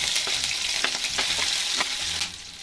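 Onions frying in hot oil on a home stove, a steady close sizzle with a few clinks of a spoon stirring through it, no talking.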